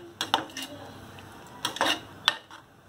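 A spoon clinks and scrapes against a pot while sesame eggplant curry is being mixed, with a few sharp metallic knocks in irregular bursts between quieter stirring.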